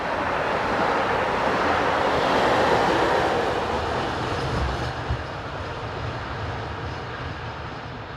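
A BB25500 electric locomotive hauls a train past Strasbourg in a steady, broad rumble and rush that swells slightly midway and then eases, with no voices over it.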